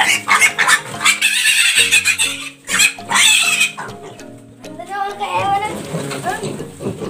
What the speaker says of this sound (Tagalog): Yan ang kakaibang baboy